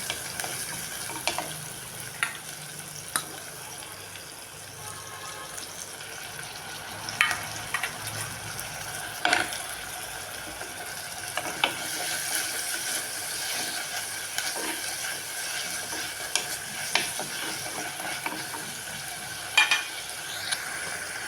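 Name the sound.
sautéing drumstick leaves with green chili and prawns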